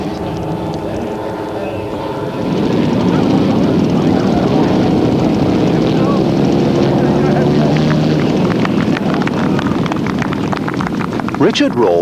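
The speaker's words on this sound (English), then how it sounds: "Richard Rawle from Practical Models flew his PBY Catalina. Powered by two 22cc Zenoa engines, it lifts off the ground with ease." A radio-control model PBY Catalina with two 22cc Zenoa engines drones steadily and loudly, rising in intensity after a couple of seconds, with a voice speaking over the engines.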